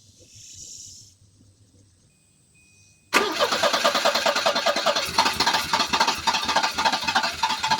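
A Volvo 240 DL engine fires up after repair, a sudden loud catch that settles into a steady, rough, throbbing idle close by, following a few seconds of quiet handling noise.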